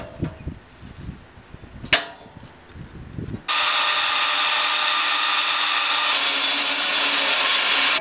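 Drilling bolt holes for a homemade skid plate: after a few light knocks and handling sounds, a loud, steady, close grinding whir starts and runs continuously for about four and a half seconds.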